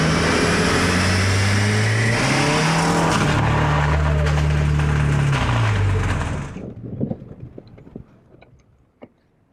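VW Jetta running nitrous on a dyno, a loud sustained engine howl climbing and shifting in pitch before cutting off abruptly, followed by scattered clanks and faint rattles in near quiet.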